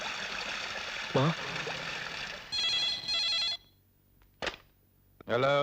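Electronic telephone ringing in short repeated bursts with gaps between, over a faint background hiss and brief low sounds.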